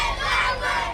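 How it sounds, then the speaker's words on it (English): A large crowd at a high school Wildcats football game in Willis chants a player's name, a loud, dense roar of many voices rising and falling together. "crowds are chanting DJ's name"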